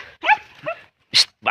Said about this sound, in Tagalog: Naglalambing po yung aso natin mga bossing.